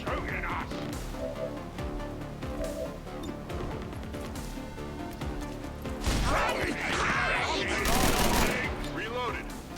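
XCOM 2 gunfire crackles in dense, continuous bursts with crashing impacts, loud and busy throughout, swelling toward the end, layered with game music and effects.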